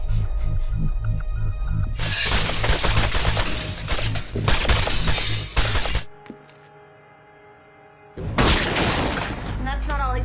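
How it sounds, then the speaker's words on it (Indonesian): Dense bursts of rapid gunfire and shattering impacts in an action scene from the Green Arrow series, loud and sustained, dropping to a quiet pause before another loud volley. "Dia pun menembak membabi buta."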